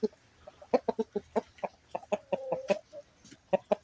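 A twelve-month-old chicken clucks close by in a quick, uneven series of short notes, with some drawn-out calls mixed in and no talking.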